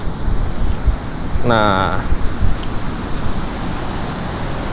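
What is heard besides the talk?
ocean waves breaking on a beach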